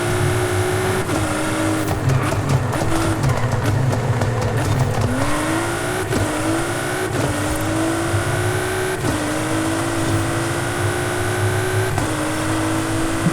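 A Nissan Fairlady 350Z drift car screams through a run: loud, piercing engine revs rise and drop again and again at each gear change, with bursts of tire noise, sustained for the whole stretch.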